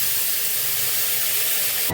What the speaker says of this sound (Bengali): এখানে একটু জল দেব।